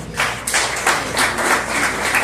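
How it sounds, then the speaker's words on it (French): Audience applause at a ministerial launch event in Haiti, a steady wash of clapping from a crowd lasting about two seconds, fairly loud and without talk. "Et je vous demande de les applaudir."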